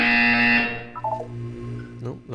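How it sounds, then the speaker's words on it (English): A loud electronic buzzer in the video game Portal 2 drones steadily for about half a second, then fades into softer tones and faint game sounds. "You will hear a buzzer."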